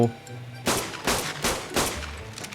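Four loud sniper rifle shots ring out in ARK Survival Evolved, each sharp crack spaced roughly half a second apart over a low background hum.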